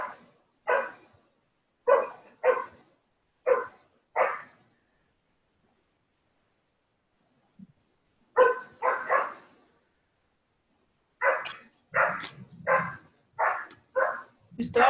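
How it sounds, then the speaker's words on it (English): A neighbouring dog barks in short bursts of several loud, evenly spaced woofs, pausing for a few seconds before barking again in a quicker run, with a brief voice in the quiet gap. "Whose dog is that? It's the neighbor's dog."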